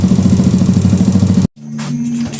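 Engine is run to warm up, idling with a loud, steady pulsing thrum, then cuts out abruptly before a quieter, lower idle resumes.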